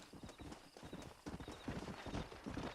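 Horse hooves clip-clopping in the video game Red Dead Redemption, a steady rapid trotting rhythm close and fairly loud, with a faint whinny underneath.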